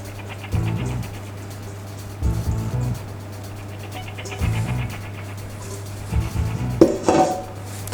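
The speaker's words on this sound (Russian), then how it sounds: "Берем тесто, аккуратно выкладываем из миски." Homemade bread dough is eased out of a bowl, and the bowl gives four or five dull clunks and knocks against the work surface. A sharper clink follows near the end, and the background is quiet with no talk.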